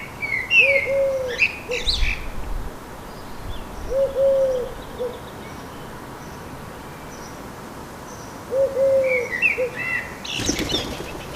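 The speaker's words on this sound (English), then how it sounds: "Wood pigeons return and they eye each other suspiciously" Wood pigeons flap in to land in a garden with repeated bursts of wing beats, set against birdsong and a soft outdoor background.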